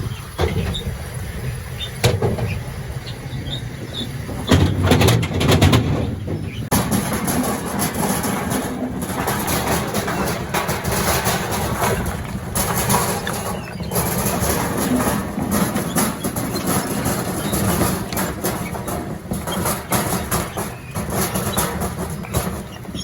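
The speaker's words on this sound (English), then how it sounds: "That's the conveyor that takes it through onto the stars." A firewood processor for cleaning and bagging logs runs steadily, its motor and conveyor turning cogged stars beneath. It makes a continuous broadband mechanical drone with clanks and rattles, louder for a moment early on, with no talking.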